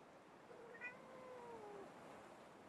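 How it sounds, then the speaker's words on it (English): A cat-faced rubber duck meows in the video game Placid Plastic Duck Simulator, one soft drawn-out meow rising then gliding down over a faint hiss of ambient background. "Cat duck meows when interacting with it."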